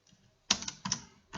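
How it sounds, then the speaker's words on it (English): A few short bursts of computer-keyboard typing, close and fairly quiet, arriving in three quick clusters of keystrokes with brief pauses between them and no talking. "Where am I typing?"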